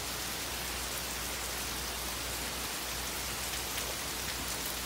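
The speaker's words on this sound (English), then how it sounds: "Hopefully it's raining like this out at the property on the food plots." Steady rain pours down outside an open door, a dense, even hiss of drops on surfaces that holds constant throughout with no voices.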